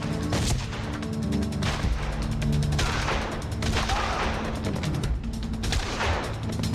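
Sniper gunfire in the video game Made Man: dense, continuous volleys of shots and crashes rattle on without pause, loud and busy with overlapping reports.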